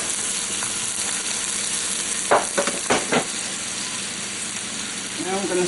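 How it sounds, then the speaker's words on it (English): Onions fry in a pan for Salisbury steak, a steady broad sizzle with a few sharp scrapes and clatters of a utensil across the pan bottom midway, continuous and close. "I'm just going to stir and scrape until everything's off the bottom of the pan and the onions are soft"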